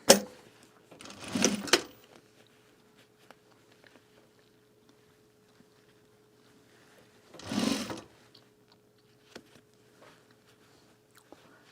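A sewing machine binding the edge of a garment duffle bag, two short whirring stitch runs separated by a long near-silent pause, close and moderately loud, with a steady faint hum and small clicks.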